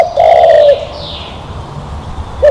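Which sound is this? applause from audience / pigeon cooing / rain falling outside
pigeon cooing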